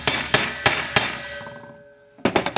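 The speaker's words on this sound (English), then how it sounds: "Once you hear a different pitch when you're hammering that in, it'll be a lower pitch" A hammer taps a new bearing into a harness-racing sulky wheel hub: four evenly spaced ringing metallic strikes, each decaying, then a quick burst of three or four lighter taps, close and loud.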